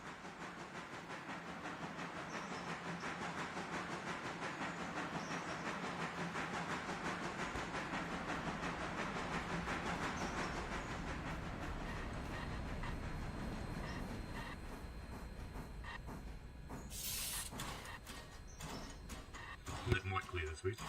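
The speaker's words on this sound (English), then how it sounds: "Here comes our little toy train." Small steam locomotive running on rails in the Railroader train simulation game gives a continuous rumbling roll with a faint clatter, fairly close and steady throughout, then fades near the end.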